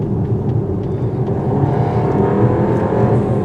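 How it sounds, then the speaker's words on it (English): A 2025 VW Tiguan R-Line with a 4-cylinder engine heard from inside while driving: a steady low engine drone blended with road rumble, continuous and even, with no talking. "it sounds like a 4-cylinder"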